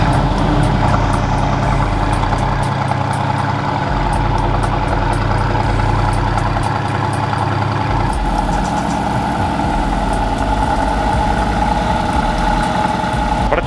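A 4x4 truck engine with switchable sport exhaust runs at a steady idle, a continuous low rumble with a shift in tone partway through, loud and close throughout.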